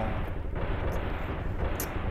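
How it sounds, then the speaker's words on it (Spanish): Gunfire from a PlayStation (PSX) video game: a few sharp, booming shots over a dense, rumbling background, spaced irregularly across a couple of seconds, with no voices. "Los disparos suenan"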